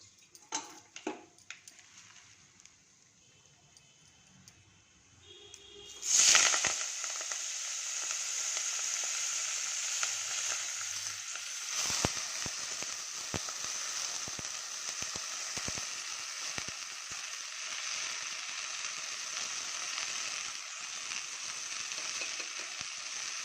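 Fenugreek leaves, sweet corn, field beans and peas drop into a hot pan for pulao, bursting into a loud, steady sizzle after a few quiet knocks and clinks, then frying on evenly with occasional stirring taps.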